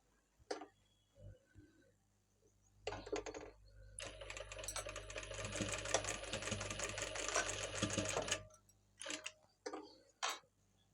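A sewing machine runs a double stitch along a blouse seam in one steady buzzing stretch of about four seconds, with short clicks and handling taps before and after.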